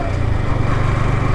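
Superbikes, including Suzuki Hayabusas and a BMW S1000 RR, roar past with a loud, close, continuous engine drone that lasts only a brief moment.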